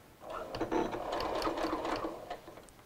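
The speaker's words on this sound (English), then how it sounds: "I'm going to begin in the middle here and begin sewing." A sewing machine stitching a quarter-inch seam on a clutch handbag runs in a steady, close mechanical rattle for a few seconds, with no voices.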